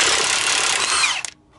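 A Milwaukee power tool spins a rusty nut off a trailing arm, a loud continuous whining buzz lasting over a second before it cuts off abruptly.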